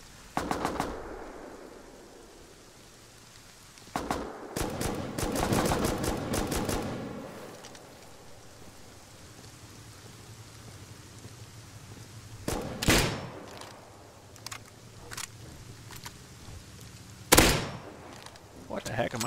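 Gunfire in the video game Rust comes as a loud rapid burst, then more short volleys, with scattered single sharp shots later and long quieter stretches between them.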